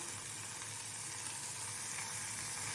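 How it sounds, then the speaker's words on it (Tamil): Coriander leaves sautéing in oil for tomato chutney, a dense, even hiss of frying that stays steady throughout at close range. "இப்போது அதே எண்ணெயில் கொத்தமல்லி இலையை சேர்த்துக்கலாம்."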